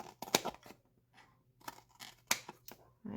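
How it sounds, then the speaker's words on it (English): Scissors snip through card for an Easter peek-a-boo treat box, cutting at an angle along a score line: several short crisp cuts in quick bursts, close and fairly quiet, with a low steady hum beneath. "cut at an angle"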